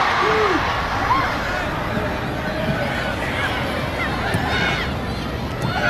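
Stadium crowd noise at a USA vs France women's soccer match, a steady broad roar of spectators with occasional whistles and shouts, fairly distant and continuous.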